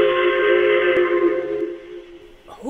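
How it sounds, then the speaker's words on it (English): A steam train whistle sounds in a sustained, loud, harmonic blast lasting over a second and a half, then cuts off, leaving a quiet pause before faint voices begin at the very end. "I've never heard that whistle before"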